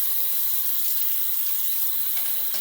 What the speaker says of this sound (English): All right, let me rinse off.